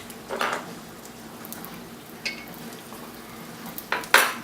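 Bread fries in melting butter in a frying pan, giving a low steady sizzle under scattered scrapes and clinks of a utensil against the pan, with a sharper metallic knock near the end.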